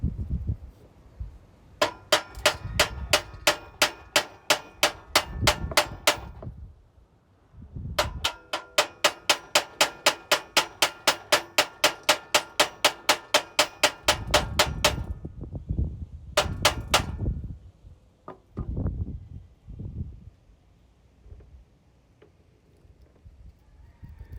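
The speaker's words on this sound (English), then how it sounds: "Hammer." Rapid metallic hammering in three long bursts of evenly spaced, sharp ringing strikes, loud and close, with dull knocks and handling noise between bursts.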